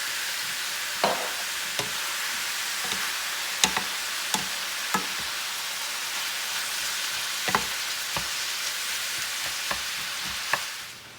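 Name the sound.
beef steak frying in oil, stirred in pan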